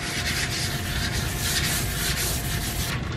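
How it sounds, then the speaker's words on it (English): A surface is scuffed by hand to help epoxy adhere, giving a steady, close abrasive rubbing hiss that carries on without pause for about three seconds. "we're not out to do anything but scratch the surface up a little bit. Get the epoxy to adhere."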